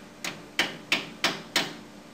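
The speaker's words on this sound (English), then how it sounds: "Be sure to tap the hose clip to secure the hose to the bracket." Five sharp, evenly spaced taps about a third of a second apart as a brake hose clip is hammered onto its frame bracket, close and crisp with no talking.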